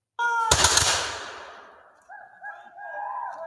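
A single loud musket volley at a Revolutionary War reenactment, a sharp crack that rolls away into a long fading rumble, followed by faint distant voices or cries from the field.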